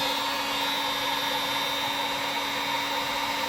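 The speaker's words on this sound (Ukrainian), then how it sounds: "Ось приєднаю монтажний фен." A steady, loud blowing hiss with a constant electrical hum underneath from a hot air rework gun running without pause.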